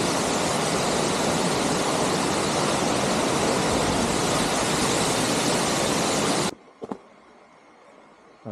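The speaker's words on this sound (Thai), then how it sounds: "น้ำตกนะน้ำตก" A waterfall on the Phu Kradueng hiking trail in Thailand roars as a loud, steady broadband rush, then cuts off abruptly near the end, leaving quiet outdoor ambience with a few faint knocks.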